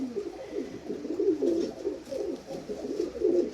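Blue and dabba pigeons from the Jarnail Kanewale loft coo in a continuous series of rolling, throaty calls, close and fairly loud, with no talk over them.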